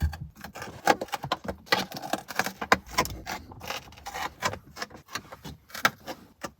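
Staples being pulled one after another from the sagging headliner of a Renault Clio 172, giving a busy run of sharp metallic clicks, snaps and rustling fabric up close, with no talking.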